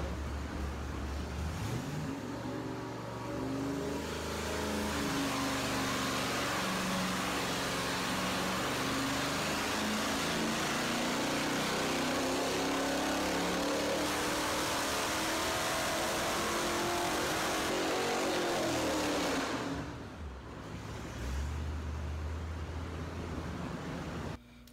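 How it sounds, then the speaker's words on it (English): A Dodge 360 Magnum V8 fitted with long tube headers revs hard and repeatedly, the exhaust roaring loudly with sweeping rises and falls before dropping briefly near the end and picking up again. "Long tube headers, let's make some noise."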